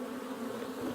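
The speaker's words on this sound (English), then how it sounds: "The bees are very gentle right now." Honey bees buzz steadily at a hive entrance, a dense continuous drone close by with no talk.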